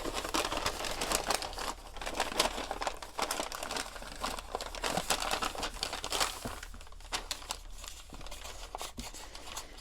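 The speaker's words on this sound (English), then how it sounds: "Then I took the paper bag and I just opened it up." A regular-size paper lunch bag is opened up and crinkled, giving continuous close, papery rustling and crackling that lasts the whole time with no talk.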